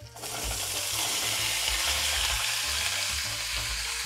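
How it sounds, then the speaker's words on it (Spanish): Pork browning in a small amount of oil in a pan gives a loud, steady sizzle and frying hiss that runs continuously throughout, with no talking. "Y aquí la vamos a dorar por 5 minutos."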